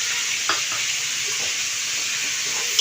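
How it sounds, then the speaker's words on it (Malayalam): Sliced onion cooking in melted butter for a paneer and mushroom biryani, a soft, even hiss of frying with a few faint stirring clicks, no one speaking. "ഇതിൽ ബട്ടറൊന്ന് ഉരുകിയതിന് ശേഷം നമുക്ക് ആദ്യം ഉള്ളിനത് ഒരു സവാള"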